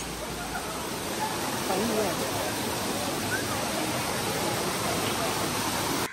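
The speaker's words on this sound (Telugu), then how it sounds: "ఇదిగోండి వాటర్ ఫాల్స్." Rampa waterfall near Rampachodavaram roars in a steady, dense wash of falling water that fills the whole clip, with faint voices mixed underneath.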